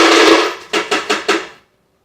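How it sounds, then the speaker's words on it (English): Cup of ice poured into a blender jar, a loud rushing clatter of cubes followed by four sharp separate clunks as the last pieces drop in, then silence. "we're going to pour it in our blender"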